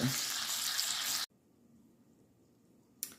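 Green beans sizzle loudly in a hot pan for about a second, then drop to a faint low simmer, with a brief sharp scrape or hiss near the end.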